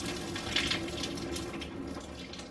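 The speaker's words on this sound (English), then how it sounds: "I take my colander and I stick it in the top of my pot, and I hold it really tight," Pasta water from a pot pours out through a colander held in the top of the pot, a steady continuous splashing rush of liquid running alone at moderate level for the whole stretch.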